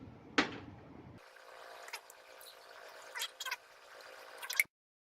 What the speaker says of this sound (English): And we're going to pour out approximately that much.